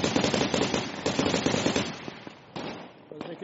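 Mortar rounds firing in a Squad-style desert battle game, a rapid cluster of sharp booming cracks that thin out into a few scattered, more distant thuds.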